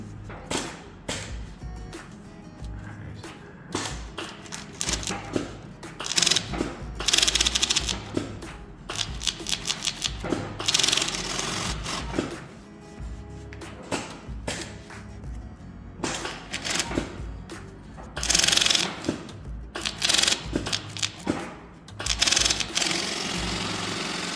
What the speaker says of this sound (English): we load our stubby holder under like such, and we just sew in like so